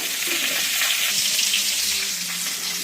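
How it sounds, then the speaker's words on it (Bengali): Steady, loud sizzling of cauliflower frying in hot oil in a pressure cooker, a continuous close hiss with faint stirring underneath and no talking. "এই যে ফুলকপি ভাজতে বসিয়ে দিয়েছি ভাজা হচ্ছে"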